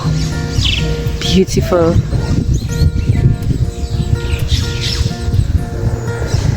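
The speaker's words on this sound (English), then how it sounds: "I hear all sorts of birds in there." Chirps and calls from finches, tanagers and blackbirds ring out along a roadside, scattered and fairly near, under a speaker's voice and rustling movement.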